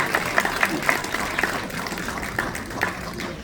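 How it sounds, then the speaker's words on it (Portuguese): An audience applauds a professor at a book presentation event, with light, scattered clapping that stays steady and fairly close for a few seconds. "Uma salva de palmas para o professor Albino."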